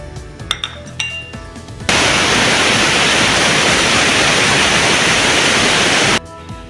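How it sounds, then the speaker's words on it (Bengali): A kitchen mixer grinder whirs loudly at full speed, grinding fried spices such as cumin and coriander in a steady dense roar for about four seconds, preceded by a few light clinks of handling. "মশলাটা মিক্সারে বেটে নিয়েছি"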